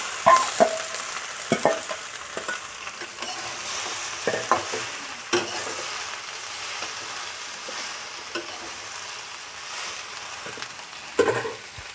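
Pumpkin stalks fry in a pan with a soft steady sizzle, broken by occasional scraping stirs and clinks of a spatula; no voices.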